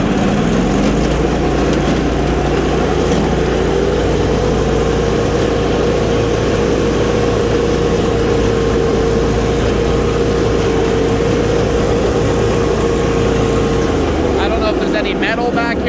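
A 20HP Sears Suburban garden tractor engine idles steadily and close, a continuous low drone with a faint tonal hum that holds for most of the stretch before the sound changes near the end, with some talk mixed in.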